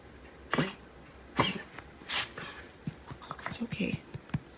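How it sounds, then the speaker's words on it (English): An elderly woman's coughing at home, a few short bursts spaced apart at moderate distance, with soft speech and small household noises in between. "that's that coughing she does"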